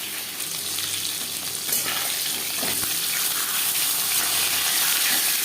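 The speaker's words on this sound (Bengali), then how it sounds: "আর দিয়ে দিলাম মাছ বাকি কচু চার পাঁচ মিনিট রান্না করবো" Fish and taro cook together in a hot pan for a fish curry, giving a continuous bright sizzle and bubbling with occasional stirring scrapes, growing slightly louder, with no talking.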